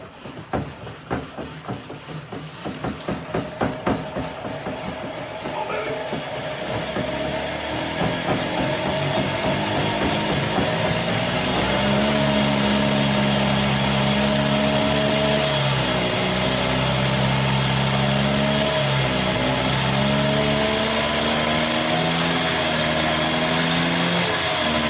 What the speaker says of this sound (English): see if we can't get this bike to fire up with the original exhaust on